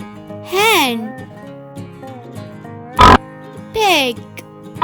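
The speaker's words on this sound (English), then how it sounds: "Pig." A pig oinks in two short squealing grunts, the first near the start and another later, over light background music with a brief sharp burst between them.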